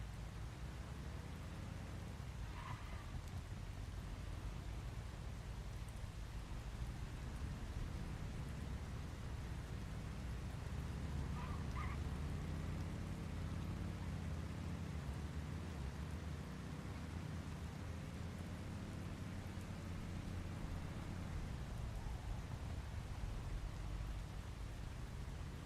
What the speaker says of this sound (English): But the rain does sound good.